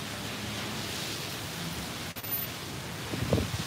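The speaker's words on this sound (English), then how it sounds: "It's raining, folks." Rain falling steadily in Tokyo during the Japanese rainy season, a dense, even hiss close by that holds unbroken for the whole stretch, with a brief dip partway through and some low, faint rustling near the end.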